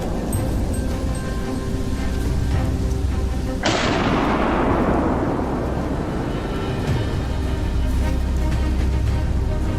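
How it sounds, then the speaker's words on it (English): A single loud rifle shot fired while hunting wild boar in the Altai mountains in winter, a sharp crack with a long rolling echo that decays over several seconds against steady background noise. "Swiftly pulling the trigger, the bullet struck its head, leaving the beast no chance to escape."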